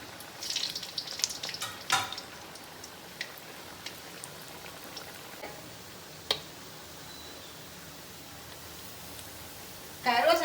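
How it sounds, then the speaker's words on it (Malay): Kuih keria dough frying in hot oil, a faint steady sizzle and crackle with occasional clinks, under quiet background talk. "Kita goreng batch yang kedua"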